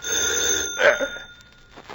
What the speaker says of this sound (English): The phone, you idiot.